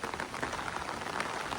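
Rain patters steadily on an umbrella on the Appalachian Trail, a dense, even hiss of close drops with no pauses.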